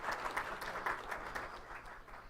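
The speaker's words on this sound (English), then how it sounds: "Let's give a round of applause." Audience applause at a Chino city council meeting, steady dense clapping filling the whole stretch at moderate level with no talk over it.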